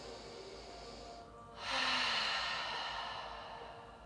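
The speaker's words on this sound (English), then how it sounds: "One more big long breath here." A long, deep breath during a yoga session: a quiet, soft inhale that swells into a louder, airy exhale about halfway through, close and alone.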